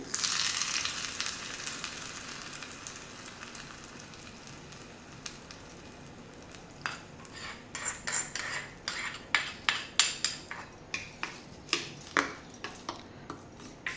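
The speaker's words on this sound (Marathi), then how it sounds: "मस्त तडतडली आहे आता हे बंद करते" A tempering of spices for a chutney sizzles in hot oil, first a steady frying hiss, then a rapid burst of sharp pops and crackles in the final seconds, close and fairly loud.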